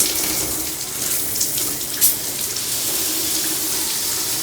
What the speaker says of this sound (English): So we have a nice flow from the shower and different settings that kind of work.